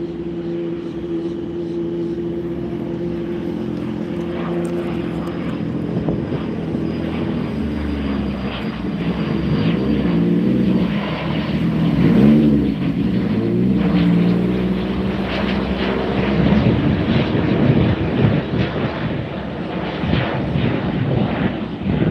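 A fixed-wing airliner comes in to land at Tampa airport with a sustained engine roar that swells to a peak midway and then holds as a strong, close drone.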